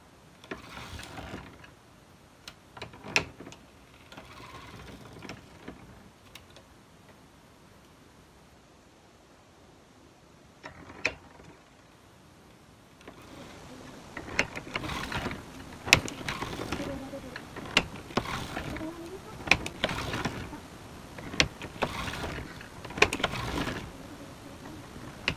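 A vintage circular sock knitting machine runs with heel weights hung on the fabric, giving rapid mechanical clicking and ratcheting, sparse and quiet at first, then louder and more continuous in repeated cranking bursts over the second half.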